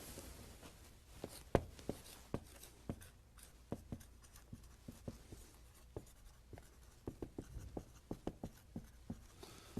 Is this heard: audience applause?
no